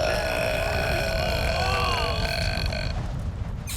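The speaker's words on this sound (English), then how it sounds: "You call that pathetic sound a burp?" Cartoon Smurfs let out a long, loud, rumbling burp that holds steady for about three seconds before fading, close and alone with no talk over it.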